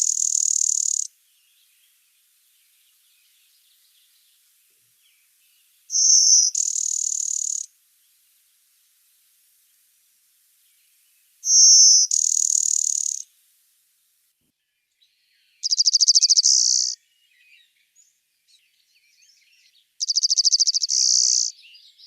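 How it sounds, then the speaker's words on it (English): Five separate buzzy insect-like calls of a blue-winged warbler in the woods, each lasting a second or two and spaced several seconds apart over near silence, fairly close and clear. "very quick and easy way to distinguish between the blue-winged warbler, which also has one of the most distinctive calls"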